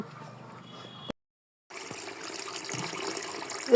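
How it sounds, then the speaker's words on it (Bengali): Water splashing and running as things are washed at home, a steady wet hiss that cuts out briefly before resuming. "পুকুর থেকে ভাসিয়ে ধুয়ে নিয়ে এসে ঘর থেকে আবার এই যে ধোয়া হচ্ছে"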